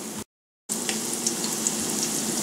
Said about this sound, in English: And we are going to fry them for about 2-3 minutes on both sides.